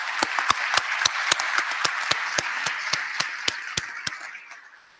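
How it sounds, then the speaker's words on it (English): A school district audience gives a round of applause at a presentation: distinct, fairly sparse claps from a modest crowd, close and sharp, thinning and fading out toward the end. "Let's collectively give them one more round of applause."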